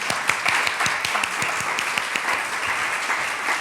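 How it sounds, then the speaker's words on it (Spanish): A church congregation gives warm applause for the volunteer biosecurity team, with distinct individual claps standing out over a dense, steady wash of clapping, moderately loud and without talk. "Yo creo que les demos un fuerte aplauso a ellos,"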